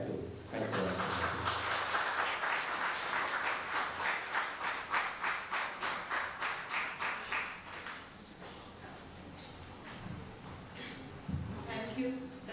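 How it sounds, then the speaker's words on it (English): Loud applause from a conference audience at an oncology summit, a dense run of claps for about eight seconds that breaks into rhythmic clapping before fading, with voices speaking afterward. "That was a very loud round of applause for sir because it was very informative"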